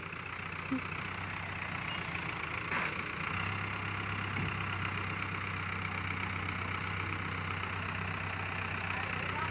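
Two tractors' engines idle and rumble steadily at a distance while pulling a stuck double-decker bus from mud, a low droning hum of heavy machinery with little change throughout.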